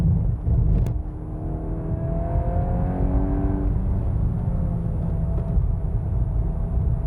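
A 2023 VW Golf R '20 Years' engine runs steadily with rising and falling tones, climbing in pitch then dropping as gears change, close and fairly loud.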